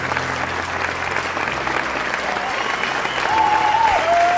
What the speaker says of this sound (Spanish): el aplauso es para toda la familia